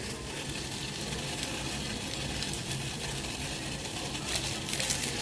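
Water boiling in a pot on the stove for Kattan coffee: a steady, fairly faint hiss and bubbling roar with no pauses, heard close up.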